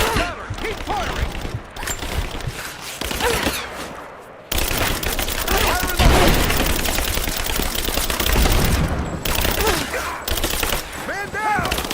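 Gunfire in Rise of the Tomb Raider, with dense, continuous automatic bursts and rattling shots filling a chaotic firefight while voices shout over the shooting.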